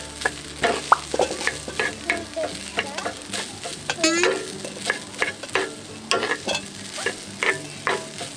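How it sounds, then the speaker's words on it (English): Cooked rice stir-fried with sliced garlic in a pan at a camping meal: steady sizzling punctuated by repeated scraping and tapping of a utensil against the pan, close and fairly loud. "Add 2 cups of cooked rice and stir fry."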